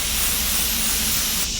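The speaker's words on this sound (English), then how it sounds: "now I'm going to spray these with olive oil." A steady, continuous hiss of olive oil spraying from a can onto shrimp and pineapple skewers, close and loud, with a brief shift in tone near the end.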